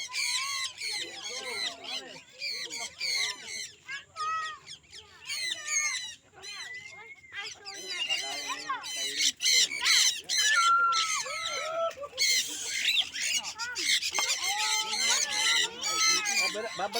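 A pet lovebird squawks in harsh, rapid bursts close by, its shrill chattering calls tumbling over one another while people talk in the background throughout.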